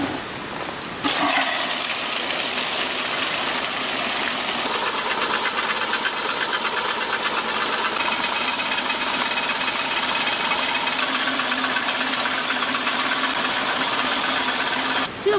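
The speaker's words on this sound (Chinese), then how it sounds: "这个发电机我已经试好了，等一下我就把叔叔的发电机给它弄好。" A rusted 30-year-old generator, repaired and restored, starts after a second of quiet and then runs steadily with a loud, rough, knocking engine drone and vibration, close by, with no voices.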